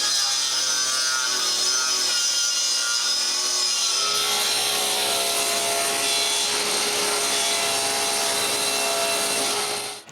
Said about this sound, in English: it's time to cut the plywood.